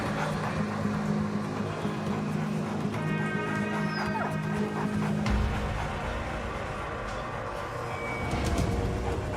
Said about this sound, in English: The dog is alerting on my duffel bag.